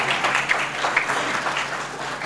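Mushaira audience in Dhampur gives brief, moderate applause welcoming Qari Rashid Hamidi, a short even patter of clapping with a few sharper claps standing out.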